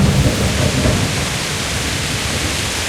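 A medieval thunderstorm in Kingdom Come: Deliverance: loud, steady rush of heavy rain with a deep rumble of thunder swelling at the start, then settling into constant broadband downpour.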